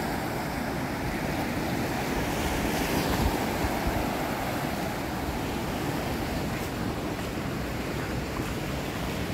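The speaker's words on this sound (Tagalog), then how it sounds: "Malakas yung alon guys." Strong ocean waves roll in at Pagudpud Blue Lagoon, a white sand beach, as a continuous loud surf roar mixed with wind buffeting the microphone, and no one speaks.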